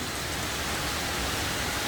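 Steady rain falls outside in a continuous, even hiss with no breaks or individual drops standing out, fairly loud and unaccompanied by voices.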